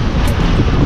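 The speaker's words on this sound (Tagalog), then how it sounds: "Hangin yan eh." Strong wind buffets the microphone outdoors at a scenic lookout, a loud continuous roaring rush with no pauses.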